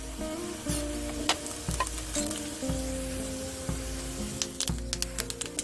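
Curry leaves crackle and sizzle sharply in hot oil for a brinjal curry tempering, bursts of spattering pops over a steady frying hiss, with occasional stirring taps.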